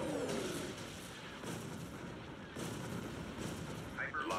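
Star Destroyer weapons firing in the space game Thrawn's Revenge, repeated booming volleys and rumbling blasts in bursts, with a voice talking over the battle.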